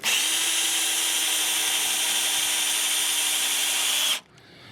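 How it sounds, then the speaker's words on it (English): Power drill driving a screw into a wooden deck frame, one loud, steady high whine held for about four seconds before stopping abruptly, close up with no talk. "And then of course you run your screws in"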